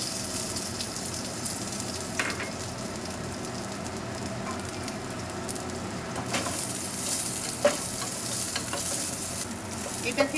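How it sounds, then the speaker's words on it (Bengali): Pieces of tender coconut and whole dried red chillies fry in hot oil for a prawn malaikari paste, producing a loud, steady crackling sizzle with occasional stirring scrapes and no talking. "আর এটার মধ্যে আছে শুকনো লঙ্কা, গোটা শুকনো লঙ্কা। এটার মধ্যে আমি একটুখানি ভেজে নেব।"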